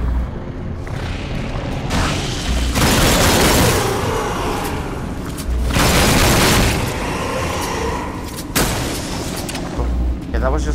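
Enemy dying in an explosion in the Farpoint shooter game: a series of heavy booms and blasts, loud and close, repeating in bursts amid steady game noise.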